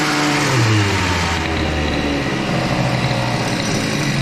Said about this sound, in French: gros coup de gaz.